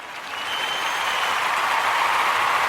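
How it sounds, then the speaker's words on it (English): Applause from a live audience at a comedy show, steady and fairly loud throughout, building in the first half-second and holding as a dense, sustained roar of clapping with no talk. "a round of applause"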